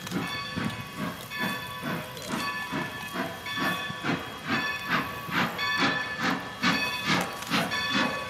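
A steam locomotive on the Strasburg Rail Road hisses and chuffs in a steady rhythmic pulse, with faint tonal whistle-like overtones above the repeating bursts of steam, moderately distant.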